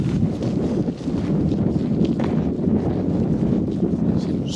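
Steady wind rushes across the microphone on a lakeshore, a continuous low rumbling roar with no pauses and no voices.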